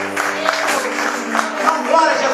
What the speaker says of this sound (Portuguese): Dá salve de palmas,